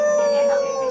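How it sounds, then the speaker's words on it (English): A wolf howls in the video game Okami on the Wii, one steady, sustained tonal cry held loud and close with no talk over it. "the majestic wolf gazed heavenward and unleashed a mighty howl"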